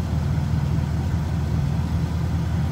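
A 1950 Ford Club Coupe's flathead engine with a positive-ground 12-volt system idles smoothly and steadily, a close, even low rumble with no talk over it.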